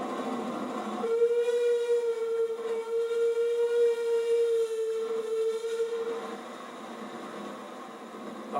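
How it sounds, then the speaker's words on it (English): A small steam train's whistle holds one long, steady blast for several seconds over the rumble of the train passing at speed, then cuts off, leaving the rolling noise behind. "Even a little steam engine at speed is unforgettable."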